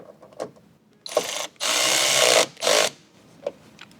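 A ratchet tightens the bottom bracket bolt of a Rokblokz rally-style mud flap on a 2022+ Nissan Frontier, heard as a few short mechanical bursts with one longer, steady, close clicking run in the middle.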